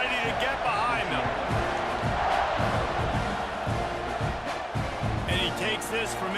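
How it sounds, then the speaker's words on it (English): A stadium crowd roars in the College Football 26 video game during a Texas A&M vs South Carolina kickoff, a steady swelling din with scattered cheers beneath a play-by-play commentator talking over it. "this crowd now ready to get behind them"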